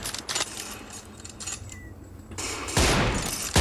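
Sniper rifle shots in the Scarfall 2.0 mobile game, a few sharp cracks near the start and a heavier loud burst toward the end, with quieter ambient game sounds between.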